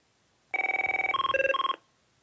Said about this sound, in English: here's that ringtone real quick